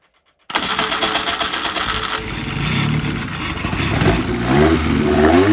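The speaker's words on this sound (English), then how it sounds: "I'll just unplug the microphone because it won't like the noise of the engine." A Honda 998 motorcycle engine on a dyno fires up abruptly after near silence, then runs loud and close with a rough mechanical roar that climbs as the revs build toward the end.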